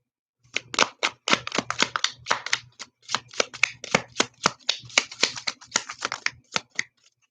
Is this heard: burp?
no